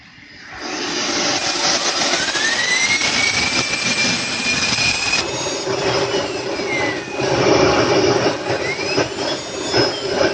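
A Swiwin model jet turbine engine spools up to maximum RPM, giving a loud, steady whine and rushing roar with rising tonal sweeps, heard up close with no voices.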